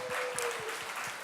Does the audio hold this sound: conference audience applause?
yes